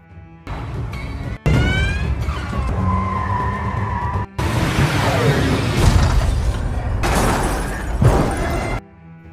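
Film car chase through a residential street: engines roar and tires skid, then a loud crunching crash with shattering debris, with sharp cuts between bursts.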